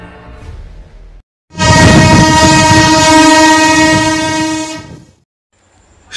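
A train pulls into a rural station at night and sounds a loud, sustained horn blast of about three seconds, with quieter rail rumble before and after.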